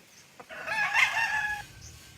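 A single rooster-like cluck and crowing call rings out clearly for about a second, alone against quiet background.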